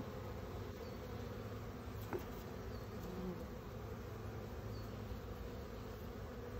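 Honeybees hum in a dense, continuous drone during a hive check, a close and even buzz that carries through the whole stretch with no voices.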